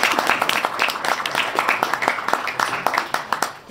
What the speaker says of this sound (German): ihr dürft ruhig klatschen